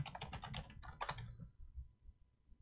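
A password typed on a computer keyboard: a quick run of close, crisp keystrokes over about a second and a half, then quiet, with no talk.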